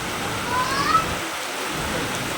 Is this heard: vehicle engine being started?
no